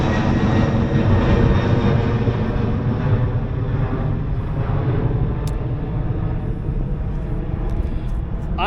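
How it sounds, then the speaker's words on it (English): An airplane roars overhead near Louisville Cardinals Stadium in Louisville, Kentucky, a broad continuous rumble that slowly fades as it passes, with a few faint clicks near the end. "there was a plane that just went over the head"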